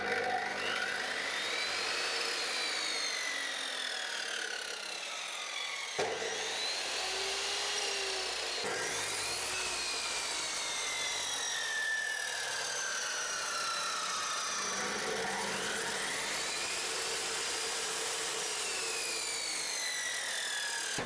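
A Vikhr mitre saw runs with a high, whining motor hum that pitches up and down in sweeping waves over about twenty seconds, steady and close, with no talking.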